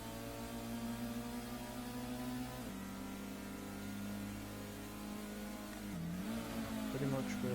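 Race car engine held at full throttle in Gran Turismo on the Deep Forest track, a steady loud drone that dips briefly on shifts and climbs again, with no talk over it.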